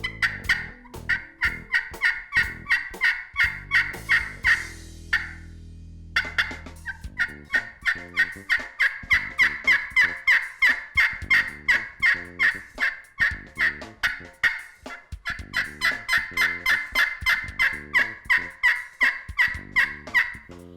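Wild turkey hen yelps imitated on a friction call, played as long runs of sharp, evenly spaced notes with one short pause near the start. The calls are close and loud throughout, with no talking.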